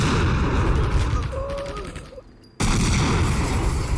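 Explosions in the 1999 survival horror game Nocturne, dense booming blasts and crackling debris that fade into a brief near-silence before a sudden loud burst of rumbling resumes.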